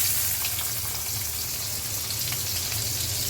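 Chopped onion hits hot oil in a home kitchen pan, giving a loud, steady sizzle and crackle that runs unbroken from start to finish, with no voices.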